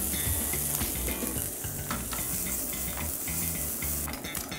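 Sliced shallots, baby onion and ginger sizzle loudly in a hot pan, close up, with a utensil stirring and scraping through them and no talk.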